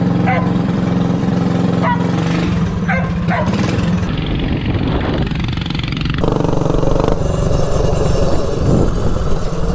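A stretched Motovox mini bike's small engine runs on a test ride, a loud buzzing putter that rises and changes pitch as it revs, with someone speaking over the engine early on.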